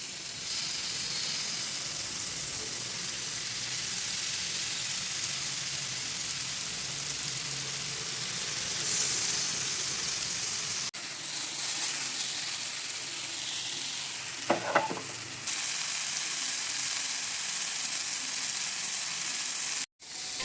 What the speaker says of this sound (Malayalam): അത് നമ്മൾ ബട്ടർ ഇട്ടുകൊണ്ട് വാർത്തിയെടുക്കുക